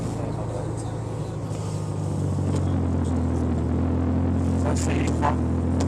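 A Ferrari Mondial with a four-valve-per-cylinder Quattrovalvole engine and a gated shifter drones low and steady from inside the cabin on a ride, with a short spoken remark over the rumble.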